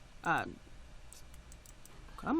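A computer mouse clicks a few times, faint and close, while a person talks at the start and end.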